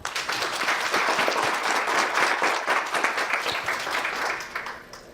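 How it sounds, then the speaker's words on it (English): A round of applause from a business panel audience, swelling quickly to a full, dense clapping and then thinning out toward the end. "Let's give them a great round of applause."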